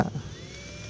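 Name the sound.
electric drill reaming metal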